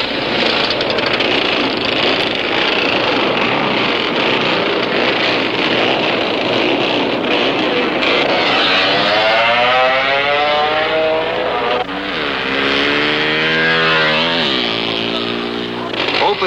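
A drag racing motorcycle built with two engines and multiple exhausts roars loudly and continuously, its pitch sweeping upward as it accelerates, while someone talks over the engine noise.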